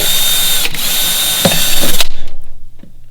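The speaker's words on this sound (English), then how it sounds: "So I'm going to drill" A power drill whines at high speed drilling holes in recycled materials, then bogs and stops; the motor spins down in a brief, close, loud burst.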